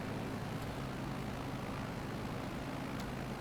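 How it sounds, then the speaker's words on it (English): An airplane flies low over Chicago buildings in Flight Simulator, its engine a steady, even drone that holds constant without any break. "A plane just flying this close over buildings."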